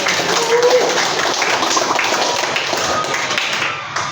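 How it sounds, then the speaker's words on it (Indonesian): Classroom of vocational high school students clapping together, a dense continuous patter of many hands close by that stays loud throughout and tapers slightly at the end. "Tepuk tangan buat kita semua."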